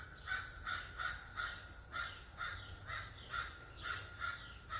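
Crows cawing in a steady series of harsh, repeated calls, about ten in under five seconds, moderately near over a low background rumble, with no talking.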